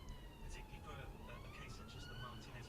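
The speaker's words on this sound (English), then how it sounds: "Now you can hear the siren now." A distant emergency siren wails with rising and falling tones, faint behind steady road and engine noise heard from inside a car on a UK road.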